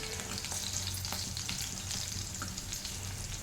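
Dried red chilies fry in a pan for tomato rasam, producing a continuous, even crackling sizzle at close range with no voices.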